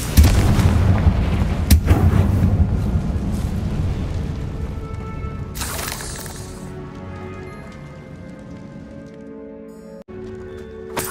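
In the video game Hogwarts Legacy, the Confringo spell sets off a loud, deep explosion that rumbles and gradually fades over several seconds, with a brief bright whoosh partway through and no voices.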